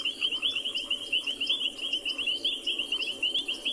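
Frogs, including reed frogs, call at sunset on safari: a steady chorus of high whistling chirps repeating rapidly over a constant background of insect-like trilling, with no voices.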